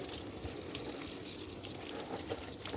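Water rinses steadily over a puppy being bathed with soap after it waded through mud, a continuous splashing, running flow with no breaks and no voices over it.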